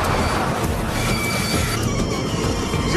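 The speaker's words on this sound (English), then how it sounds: "A runaway train with defective brakes races towards Paris's Gare de Lyon." A runaway train with defective brakes roars along the rails toward Paris Gare de Lyon in a continuous, loud rush of rumbling and metallic rattling, with no voices.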